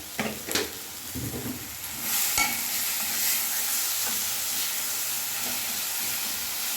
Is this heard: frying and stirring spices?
yes